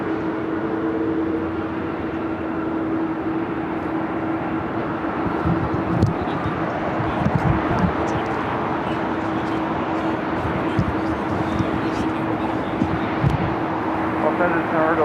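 A heavy cargo jet rumbles on takeoff at LAX, bound for Tokyo Narita, a broad distant roar building under steady wind noise.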